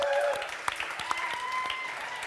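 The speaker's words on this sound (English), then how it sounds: "A round of applause to the 2 of them as well, please" Audience applause at a live pub show in Café on Seine, Dublin, for two rugby guests, steady clapping with a few sharp claps and faint voices over it.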